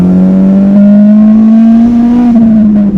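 A Spoon-tuned Honda Ferio EG sedan engine screams at high revs near 10,000 rpm, a loud, sustained tone that climbs slightly and holds steady before easing off at the end.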